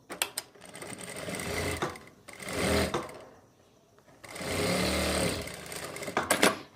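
Sewing machine running in bursts as it stitches a folded fabric seam for trousers or palazzo pants with a half-inch margin, the whirring motor loud and close in two long runs separated by quieter gaps.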